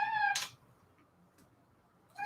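A pet cat meows loudly twice, one wavering cry at the start and another beginning at the end, with quiet room background between, no talking.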